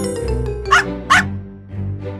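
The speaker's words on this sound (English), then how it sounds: "His barking could pinpoint their location." A cartoon dog barks in short, sharp bursts, about three distinct yaps over a tonal musical background, close and clear with no speech.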